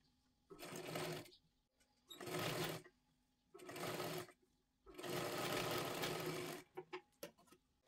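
Bursts of a sewing machine stitching a blouse, four loud running passes of a second or so each with pauses between, ending in a few short clicks; no voices.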